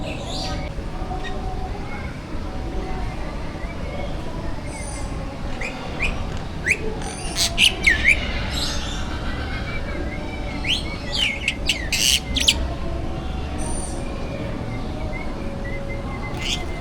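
Birds at the Jakarta Bird Land bird show call in sharp, bright chirps and whistles, clustered in bursts over a steady murmur of crowd and ambient noise, with voices talking in the background.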